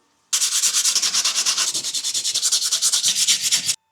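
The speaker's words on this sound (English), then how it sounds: "all we have to do is sand them down, stain all the pieces" Wooden pieces are sanded by hand with quick, even back-and-forth rasping strokes, loud and close, running steadily for a few seconds without speech.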